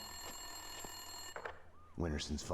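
Telephone ringing in the 2003 video game Max Payne 2, a steady electronic ring tone under low game ambience, followed by someone speaking near the end.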